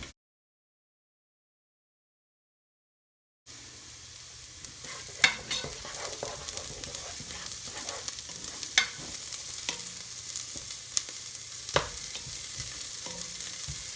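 Chopped celery for a vegan corn chowder sizzles and fries in a pan with occasional stirring clatters, a soft steady crackle close by after a few seconds of silence.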